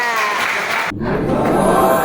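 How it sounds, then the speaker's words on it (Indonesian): A high school class applauds a student who just presented: brief, busy clapping with a few voices, broken by a short gap and then picking up again. "Oke, tepuk tangan buat Cynthia."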